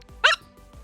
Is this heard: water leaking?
no